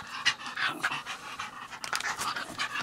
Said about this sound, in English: Here's my family dog.